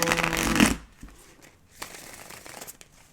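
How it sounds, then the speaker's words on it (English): A quick burst of tarot card shuffling, riffling briskly up close, followed by softer handling sounds. "Let me just do a little old school shuffle."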